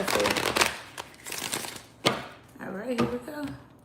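Tarot cards riffled and shuffled in quick papery bursts, close by, with some soft tapping and a voice murmuring partway through.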